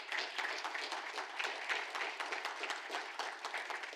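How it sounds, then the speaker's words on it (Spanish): A church congregation claps together during a service, a close, lively burst of applause with distinct hand claps rising and falling over a few seconds. "Vamos a darle un aplauso al Señor"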